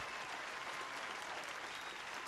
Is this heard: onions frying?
no